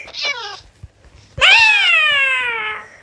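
A cat in a video game meows twice, a short call followed by a longer, drawn-out wail, loud and close.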